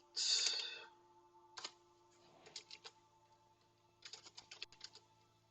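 Quiet computer keyboard typing while searching during a Minecraft game: a soft opening clatter, then short sparse bursts of keystrokes with pauses in between, close and alone.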